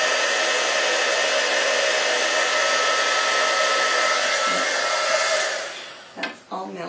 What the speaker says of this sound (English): then you move your heat gun